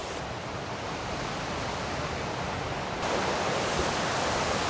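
River water rushing over rocks roars steadily as a broad, continuous wash of noise, close and loud, growing slightly louder partway through, with no voices. Noisy River, Manchester, Jamaica.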